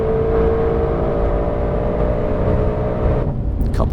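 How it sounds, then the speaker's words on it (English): A 2020 Ford Mustang Shelby GT500 engine revving hard on a race track, producing a loud, steady, throaty roar heard from inside the car that shifts tone near the end. "Just listen to that engine sing."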